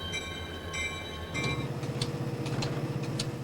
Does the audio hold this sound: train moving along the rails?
yes